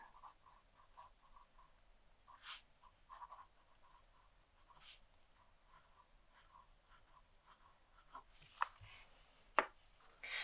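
Fountain pen nib scratching across paper in quiet, close strokes, with a few louder taps and scrapes toward the end and no talking.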